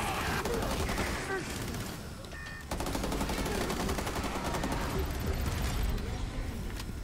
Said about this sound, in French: Oh, les tirs.